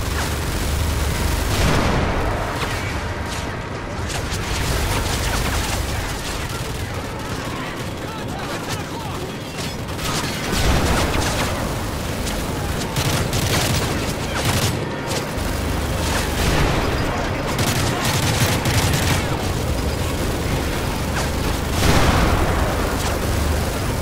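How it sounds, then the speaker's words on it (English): Gunfire rattles through a Call of Duty Modern Warfare 3 battle, with dense bursts of shots and booming explosions under scattered voices, sustained and loud throughout. "Who's shooting at me?"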